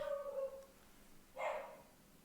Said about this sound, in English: Probably barking at the mail person.